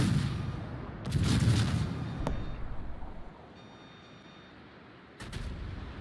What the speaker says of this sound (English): All stations requesting fire on the designated target.